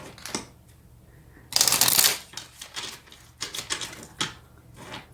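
Tarot cards are shuffled in a tabletop reading, with crisp riffling bursts, one long loud ruffle and then several shorter rapid flutters, close and clear with no talking.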